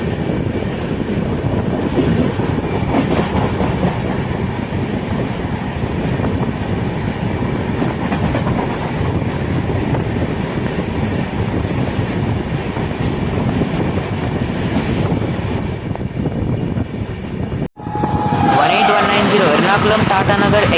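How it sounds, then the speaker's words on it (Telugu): Lokmanya Tilak Terminus–Visakhapatnam Express passing on Indian Railways, a loud continuous rumble and rattle of coaches rolling by, abruptly cut near the end as the sound changes. "Lokmanya Tilak terminals Visakhapatnam express."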